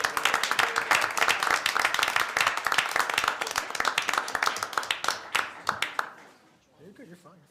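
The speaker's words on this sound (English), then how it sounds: "A round of applause." Audience at a town council meeting claps, the individual hand claps crisp and distinct, lasting about six seconds before they stop and a voice speaks briefly.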